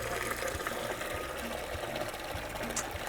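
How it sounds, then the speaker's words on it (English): About a gallon of water is poured into a bucket with a teaspoon of bleach, a steady gushing fill with a low churning rumble, continuous and moderately quiet. "I'm going to add about 1 gallon of water."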